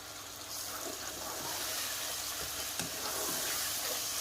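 Tomatoes sizzling in hot masala for a kofta meatball curry as they are stirred in a pan, a steady dense frying hiss with soft scraping stirs, close and continuous with no talk.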